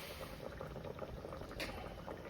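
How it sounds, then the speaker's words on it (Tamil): Chicken biryani simmering in a pot after salt and a little water are added, cooking on high flame; a steady, soft bubbling and sizzling hiss runs throughout, close and even, with no talking. "உப்பு போட்டு கொஞ்சோண்டு தண்ணி ஊற்றி வேக வச்சிட்ருக்கோம்"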